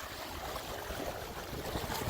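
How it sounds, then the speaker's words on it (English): Wind-driven waves crash steadily on a lake shore in Auburn, a constant broadband wash of surf with gusty wind noise buffeting the microphone, loud and continuous throughout. "Wind's pretty good, so we got the waves crashing over here on the shore."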